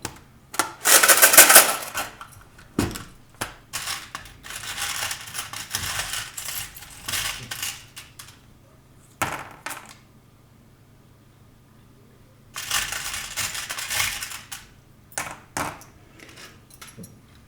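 Small tarot charms handled in bursts, clinking and rattling together like loose coins, a loud flurry at first and then quieter scattered jingles with a second busy burst later, all without talk.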